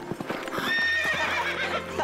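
Cartoon horses descend along a river at night, with quick clip-clopping hooves up close and a high whinny rising over them.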